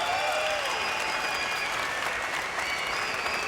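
Crowd applause for Chris Eubank Jr. after his TKO win over Tadas Jonkus at a boxing event: a loud, dense, steady wash of clapping that carries evenly through the whole stretch.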